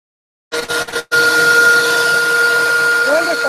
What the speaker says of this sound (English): come on, leaf blower